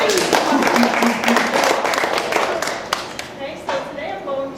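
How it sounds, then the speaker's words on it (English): A conference crowd at an ExhibitCraft event presentation gives a dense, continuous round of applause that gradually thins out, with voices calling and talking over it. "So give yourselves a round of applause."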